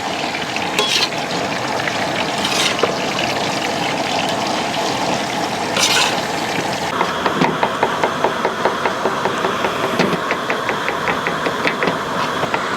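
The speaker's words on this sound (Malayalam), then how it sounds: "നമുക്കിനി ചിക്കനൊക്കെ ഒന്ന് ഫ്രൈ ചെയ്തെടുക്കാം" Steady sizzling of chicken frying in hot oil fills the clip, with occasional stirring scrapes and faint rhythmic clatter later on.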